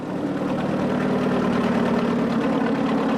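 An Allis-Chalmers tractor engine idles nearby with a steady, deep, throaty rumble, loud and unbroken for a few seconds with no talking over it.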